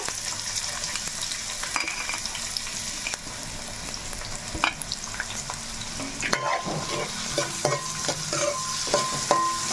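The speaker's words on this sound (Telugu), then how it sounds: "ఇప్పుడైతే మనం చక్కగా ఆనియన్స్ ముక్కలు అయితే అలాగా వేసేసుకుందాము" Onion pieces go into about three spoons of hot oil for a chicken gravy curry and are stirred, giving a steady close sizzle with scraping and clinking from the spoon and pan throughout.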